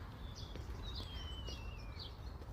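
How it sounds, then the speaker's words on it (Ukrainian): Birds chirp and trill faintly on a quiet spring evening along an alley, with thin whistling calls and one long gliding note over a low hum of distant background noise. "Пташки співають."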